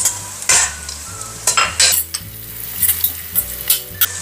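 Onion sautéing in a pan with browned ginger and garlic for Filipino lugaw, a loud close sizzle with repeated scraping stirs of a utensil against the pan in a steady rhythm.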